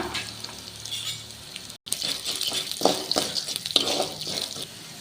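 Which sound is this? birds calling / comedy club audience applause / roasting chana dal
roasting chana dal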